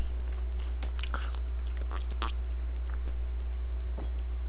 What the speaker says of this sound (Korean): 이거 하나 먹을게요